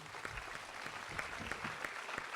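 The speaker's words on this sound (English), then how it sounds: "can I get a nice round of applause for the panel?" Applause from a forum audience for a political panel, quiet and fairly distant, with scattered claps rising a little above a steady wash of clapping.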